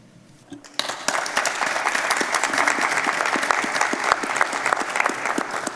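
An audience in the Mississauga City Hall council chamber bursts into applause, steady and dense clapping that fills the room and continues without a break.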